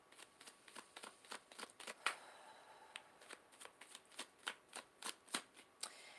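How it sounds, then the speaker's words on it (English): Tarot cards being shuffled, a quiet series of crisp riffling snaps repeating in quick rhythmic bursts, close up with no talking. "Gigi, I'm shuffling here for you then"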